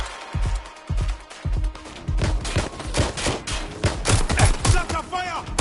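Video-game gunfire comes in dense, loud, close bursts of rapid shots and overlapping volleys, cracking repeatedly, with a voice faintly mixed in.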